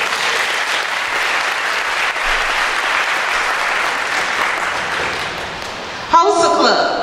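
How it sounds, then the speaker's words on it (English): Steady applause from an audience at a school honors day fills most of the stretch as a broad clapping wash, then cuts off abruptly near the end, where a voice comes in. "Let's give another applause."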